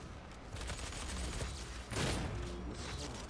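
Rapid gunfire from a super shotgun and assault rifle in the video game Doom multiplayer: a dense, continuous crackling burst of shots with a heavier blast near the middle, loud and alone for a few seconds.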